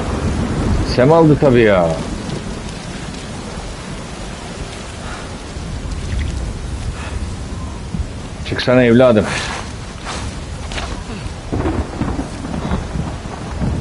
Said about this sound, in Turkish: İyi, çatır çutur yağmurları.